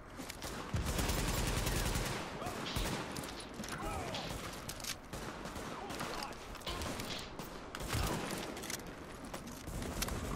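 Rapid gunfire from the video game The Division rattles in dense bursts beside vehicle and mechanical clatter, loud and close, with occasional voices over the shooting.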